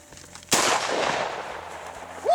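A shotgun fires once during a duck hunt, a single loud close blast with a long rolling echo fading behind it.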